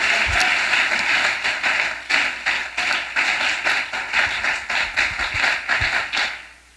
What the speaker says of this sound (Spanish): Si ese aplauso es para Jesús, si ese aplauso es para Él.